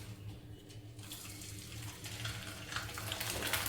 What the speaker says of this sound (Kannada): ಇದನ್ನು ಇವಾಗ ಡೀಪ್ ಫ್ರೈ ಮಾಡಿ ತೋರಿಸ್ತಾ ಇದ್ದೀನಿ